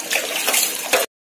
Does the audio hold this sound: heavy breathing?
no